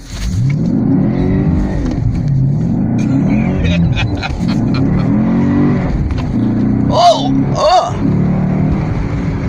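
A car drives and accelerates with a steady low engine rumble, revving briefly near the end, while people talk over it inside the vehicle.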